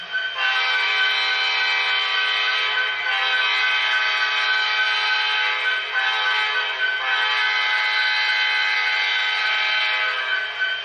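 A loud, steady grade crossing horn chord from an MTH HO-scale SD70ACe model locomotive with ProtoSound 3.0 blares continuously, with slight breaks in the pattern, close and sustained for several seconds.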